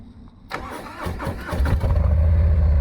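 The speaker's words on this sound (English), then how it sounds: "let's go ahead and fire up this bike." A Harley-Davidson Heritage touring motorcycle engine cranks and catches, then settles into a deep, loud, throbbing idle close by.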